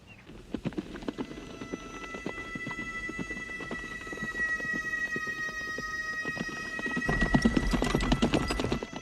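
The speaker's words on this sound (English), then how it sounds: "Is that a horse?" A horse's hooves clip-clop steadily at a walking pace, joined by a loud neigh and whinny that swells near the end, with no speech.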